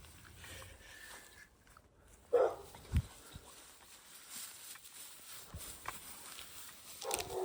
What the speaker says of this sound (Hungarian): Valószínűleg a kutya sokkal közelebb van, mint azt élőben gondoltuk.